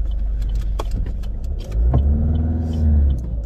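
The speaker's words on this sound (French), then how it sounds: "Allez, monsieur le camion, allons-y." Truck engine rumbling close by with a low, heavy drone that rises as it pulls away and accelerates, with occasional clicks and rattles over the steady motor noise.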